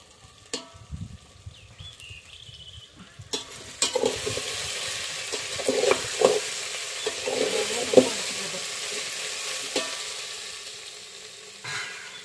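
Dried eggplant sizzles and is stirred in a pan, light scraping at first, then a steady frying hiss from about four seconds with spatula clinks and scrapes over it, fairly close, with no talking.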